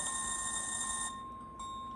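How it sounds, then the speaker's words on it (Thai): A steady, shrill electronic whistle tone from an HO-scale model Baltimore & Ohio caboose holds for about a second, then cuts off, leaving quieter ringing remnants. "เสียงหวีดก็จะเป็นหวีด จะเสียงเป็นแบบนี้เลย"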